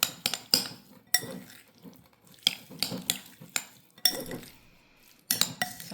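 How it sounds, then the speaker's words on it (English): Steak bites tossed with spices in a pan give off a run of sharp, close metal clinks and scrapes from a utensil, arriving in irregular bursts over a faint sizzle. "And just give that a good stir."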